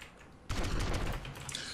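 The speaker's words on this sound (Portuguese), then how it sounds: "O cara tá lá fora atirando na gente" Rapid automatic gunfire in the video game GTA San Andreas online bursts in abruptly after a quiet moment and continues as a dense, loud volley with no voices.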